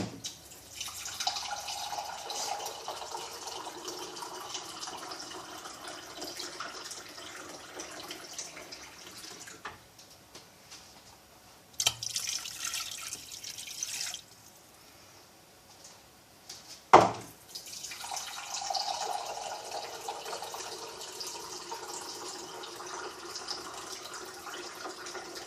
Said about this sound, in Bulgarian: Мога да добавим вода още.